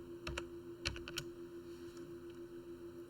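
A computer keyboard is tapped in a few quick, soft keystroke bursts, clustered early, then quiet hum.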